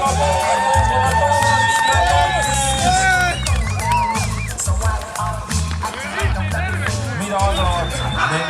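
A crowd at the Red Bull Jump&Freeze event cheers and shouts, with loud, dense babble and whoops throughout, while excited voices talk over the noise.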